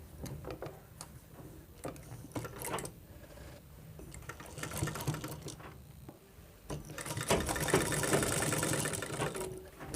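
A sewing machine stitching piping onto a blouse: bursts of mechanical whirring and clicking with short pauses, building to a steadier run near the end, close and moderately loud with no talking.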